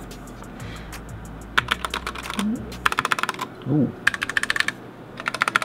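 Bursts of keystrokes on a Ducky One 2 mechanical keyboard fitted with Joker keycaps, rapid clusters of clacks separated by short pauses, with a brief exclaimed voice between bursts.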